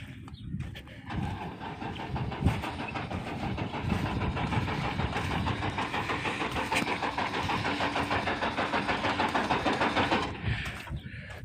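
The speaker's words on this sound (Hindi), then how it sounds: "बंद हो गया भाई, स्टार्ट ही नहीं हो रहा।" Tractor engine on farmland running roughly and struggling, a mid-pitched mechanical churn that sputters at first, settles into a steady uneven rumble, then cuts off near the end.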